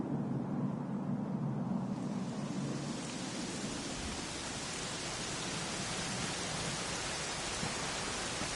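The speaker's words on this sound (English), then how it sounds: "it was raining like this the last time I ever saw her" Steady, dense rainfall hiss in the video game Dragon Quest XI S that swells to fill the scene after a couple of seconds, continuous and even with no voices.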